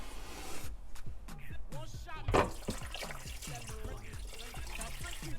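Water pouring and splashing into a soup pot at a steady flow, about 8 cups, close by and moderately loud, with bubbly gurgling throughout.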